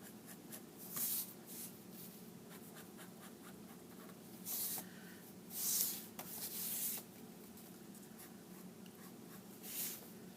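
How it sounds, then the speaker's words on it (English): Pencil sketching quick lines on paper, with soft scratchy strokes in short bursts separated by brief pauses. The strokes are faint and close against a low background hum. "I'm just going through them very quickly, sketching in the lines."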